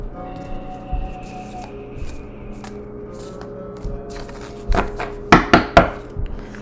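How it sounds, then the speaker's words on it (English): A deck of tarot cards being shuffled by hand indoors, with soft repeated riffling and tapping through the clip that builds to a few sharper, louder snaps and taps near the end. "I'm going to shuffle the cards."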